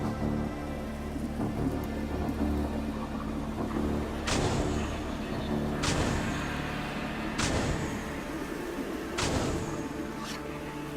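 Rain and hail storm effect in the Sentinels of the Multiverse video game: steady loud rain wash throughout, punctuated by four sharp crackling bursts like thunderclaps or heavy hail strikes at regular intervals.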